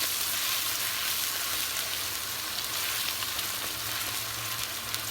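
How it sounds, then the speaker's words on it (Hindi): Masala for bagara baingan frying in hot oil on high heat, a steady, close, dense sizzle and crackle that holds evenly throughout with no talking. "देखिए, हमारा मसाला भून रहा है।"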